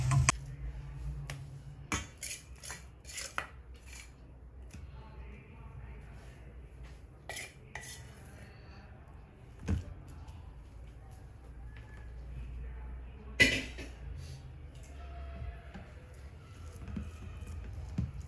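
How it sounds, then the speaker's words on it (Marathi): A spoon spreads a thick amla candy mixture across a metal plate, making scattered quiet clinks and scrapes with soft pauses between, and faint talk in the background. "असं चमच्याने पसरवून घ्यायचं थोडं"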